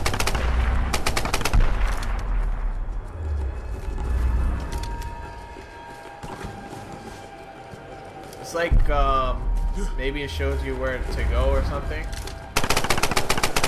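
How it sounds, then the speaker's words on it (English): Gunfire in a Tomb Raider multiplayer free-for-all match: rapid bursts of automatic shots and sharp cracks at the start and end, with game noise between and a player talking over much of it. "they shoot the bullets, I hear it from everywhere"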